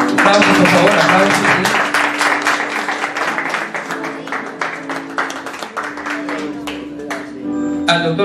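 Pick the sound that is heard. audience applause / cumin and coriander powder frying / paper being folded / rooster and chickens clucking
audience applause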